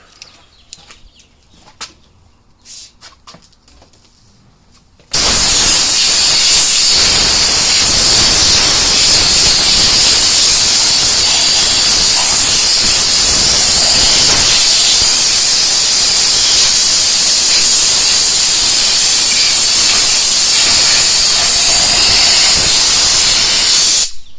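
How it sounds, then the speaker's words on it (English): An inexpensive handheld air blow gun cleaning off a truck front axle: after a few quiet seconds of small knocks, a loud, close, continuous hissing blast of compressed air runs steadily to the end. "A little Amazon special blow gun just to kind of clean this axle up."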